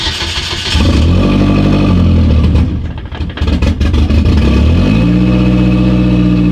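A Hyundai Genesis Coupe running on ethanol cranks and catches, then holds a loud, steady rough idle with a brief dip and surge in revs partway through; no talking.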